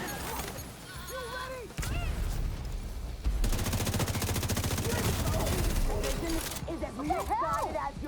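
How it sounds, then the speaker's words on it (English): Bursts of video-game gunfire from a golden-bullet weapon, loud rapid volleys sustained through the middle stretch, mixed with in-game effects and a speaking voice over much of it. "I was getting shot at by a golden bullet"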